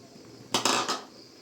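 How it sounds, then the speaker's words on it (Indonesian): A brief metallic clatter of a spoon against a cooking pot while stirring pumpkin and vegetables, two or three quick scrapes and knocks close by, then quiet. "Setelah itu campurin sayur labu. Nah, labunya kita masukin."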